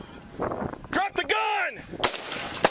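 Gunfire rings out in a police shootout with murder suspects in Pasco: a few sharp, loud bangs with echoing tails, separated by short gaps of fainter background noise.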